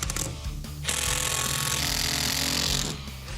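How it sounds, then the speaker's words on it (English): A power drill drives screws into board during a living room ceiling renovation: a steady, loud mechanical whir of about two seconds between quieter handling noises. "This stuff is so hard to drill."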